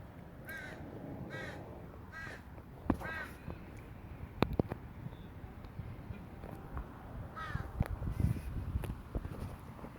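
A crow caws in several short raspy bursts, some spaced apart and a few in quick succession, against faint outdoor background noise with occasional light thuds.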